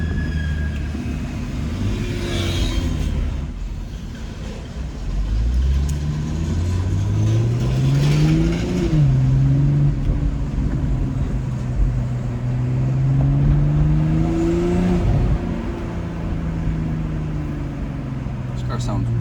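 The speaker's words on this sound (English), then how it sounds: "This car sounds really good." A 2022 BMW M240i with the B58 engine drives along, its engine note rising and falling through revs beneath someone talking over it.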